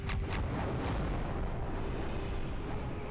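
Continuous dense crackling barrage from the Flak Barrage attack in the space strategy game Halcyon 6: Starbase Commander, a steady loud rumble of rapid bursts with a faint tone running underneath.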